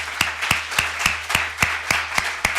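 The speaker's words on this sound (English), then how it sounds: "now it's time for applause, if you want to applause them" Audience applause for a presentation on lifelong learning at UPV, heard as sparse, evenly spaced claps ringing out at a steady beat in a reverberant hall, with no talking over them.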